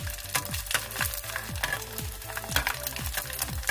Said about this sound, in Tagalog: prito ng chicharon